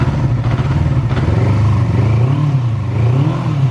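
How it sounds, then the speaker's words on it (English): A Yamaha R6 sport motorcycle engine close up, running loud and steady, its pitch wavering up and down as the throttle is blipped, with a mechanical clatter. "13 is not, is pushing off and it's gonna rev up."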